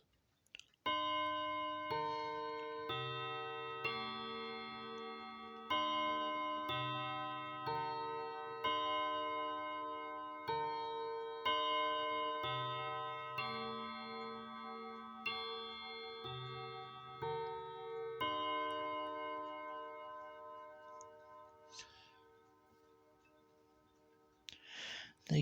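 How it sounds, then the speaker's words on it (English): Four clock chime rods from a triple chime rod set are struck one after another in repeating sequences, each metallic tone ringing out clearly and decaying slowly, with no voices. "These are 4 chime rods out of a set of triple chime rods."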